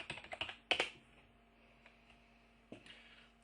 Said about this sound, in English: we just type in press release